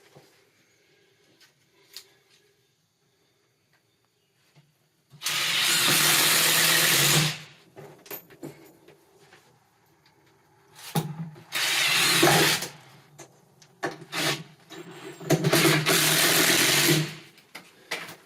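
Power drill driving screws into a bathroom subfloor during water damage repair, three loud sustained whirring bursts of about two seconds each, separated by quieter handling noises, with no talk.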